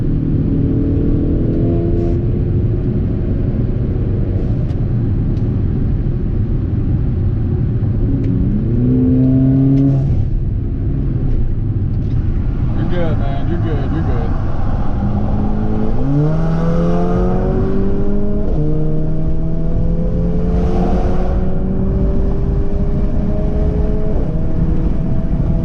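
Yellow Mercedes GLA 45 AMG with a Eurocharged stage 2 tune cruising in traffic, engine droning steadily with rising and falling tones as it shifts gears, close and continuous, no talking.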